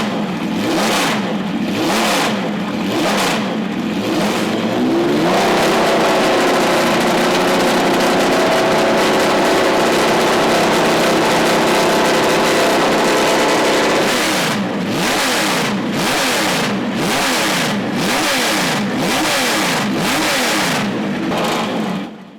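A classic race car's V12 engine, revving to 11,000 rpm, blips sharply in rapid bursts, then holds a long sustained high-revving wail before more quick rev bursts, loud and close with no talk.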